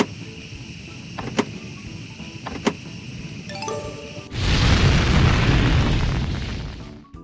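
Rocket blasting off in a children's reading video game: a few sharp clicks, then a loud roaring whoosh of launch that swells and holds for a few seconds before cutting off.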